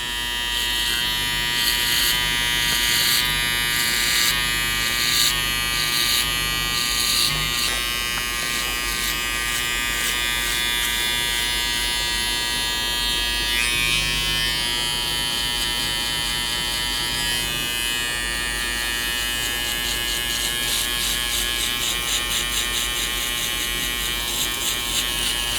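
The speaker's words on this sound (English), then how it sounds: "at this point I'm using my Andes foil shaver and I'm boarding out the bottom part completely" An Andis foil shaver buzzes steadily, close and loud, as it shaves the bottom of a skin fade against the scalp, with a constant hum that shifts slightly in pitch as it moves.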